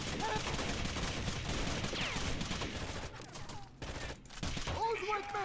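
Gunfire in the video game Rainbow Six Vegas 2: a dense, loud fusillade of rapid shots runs almost continuously, briefly thinning before resuming, with a voice surfacing near the end.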